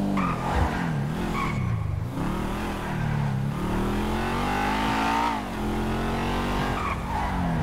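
A car in the GTA 5 video game drives and revs repeatedly, its engine pitch climbing and dropping through gear changes with a steady loud roar and occasional tire noise.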